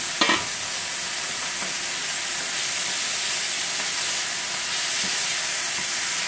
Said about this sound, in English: I'm kind of doing like a stir fry style.